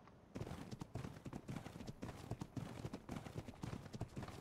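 Rapid, steady clip-clop of horse hooves in the ARK video game, running continuously at close range with a dense, busy game soundscape behind it.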